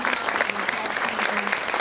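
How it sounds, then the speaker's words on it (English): Applause from the audience at a town school board meeting, a steady dense patter of many hands clapping close by, with a faint voice murmuring underneath. "Can everyone give a round of applause for Dr."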